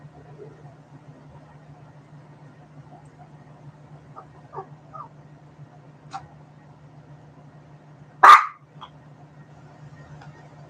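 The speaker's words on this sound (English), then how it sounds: "Now the dog is barking at nothing that's there." A dog barks once, a single sharp close yap standing out from a quiet room with a low steady hum and a few faint ticks.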